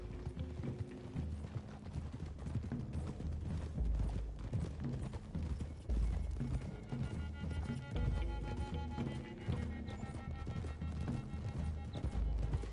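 Horses' hooves clip-clop along a road in the video game Red Dead Redemption II, a steady loud rhythm of several animals under a dense, busy mix of game ambience.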